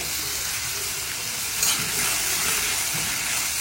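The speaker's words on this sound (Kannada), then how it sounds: "ಇಲ್ಲಿ ಚೆನ್ನಾಗಿ ಫ್ರೈ ಮಾಡ್ಕೋಬೇಕು" Steady sizzling of onions and dried chillies frying in hot oil with a little salt, a constant close hiss with slight stirring movement and no voices.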